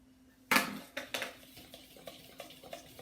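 Flour, salt, baking powder and sugar are mixed in a bowl, starting with a sharp clatter and followed by softer, irregular scrapes and taps of a utensil against the bowl, close and without talk.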